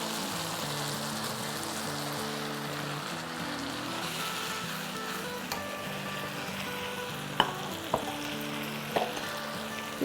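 Minced keema frying in browned onion masala in a pan, a steady near sizzle with a few sharp clinks of a spoon against the pot, no talking.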